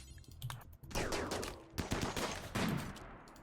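Gunfire in the colony-sim video game Rimworld (Alpha 16): rapid, loud bursts of shots and crackling volleys in quick succession, alone without talk.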